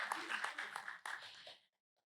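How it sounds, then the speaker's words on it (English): Audience applause at a design forum presentation, a dense burst of many hands clapping at close range that cuts off abruptly and leaves silence. "So big applause to her."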